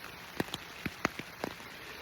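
Rain falling outdoors at a deer hunting camp in Ohio, a soft steady patter with a handful of distinct drops tapping nearby over a quiet background.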